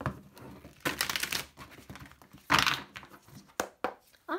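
A deck of tarot cards being shuffled by hand, with crisp riffling and papery crinkling bursts in uneven spurts, some louder flurries between short pauses, close up with no talking.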